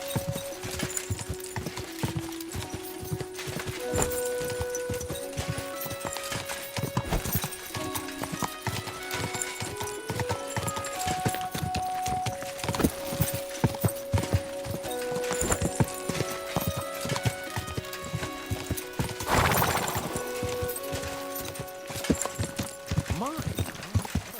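A horse in the video game Kingdom Come Deliverance 2 clip-clops steadily along with a neigh partway through, hoof beats close and constant under a background of game music.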